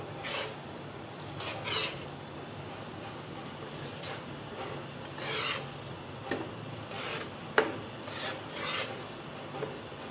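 Semolina being stirred and fried in desi ghee in a pan for suji halwa, giving a steady soft sizzle with repeated scraping strokes of the spoon throughout, alone with no talk.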